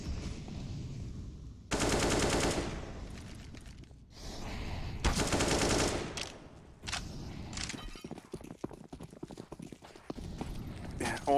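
Gunfire from a professional Counter-Strike esports match between Navi and FaZe Clan at IEM Katowice 2022: loud bursts of automatic rifle fire alternate with rapid scattered shots and clicks, with a commentator talking over parts of it.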